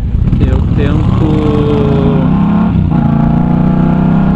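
A motorcycle engine runs loud and close while being ridden, its revs rising and falling through a few gear changes, with someone talking over it throughout.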